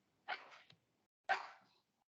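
A small dog gives two short, quiet barks about a second apart, heard alone indoors during an online accounting tutoring session.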